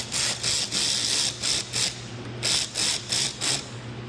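Quick bursts of ratchet clicking tighten the bolts of Ark splash guards on a 2019+ fifth-generation Dodge Ram 1500, about ten short rhythmic runs of pawl ticks close up with brief pauses between them.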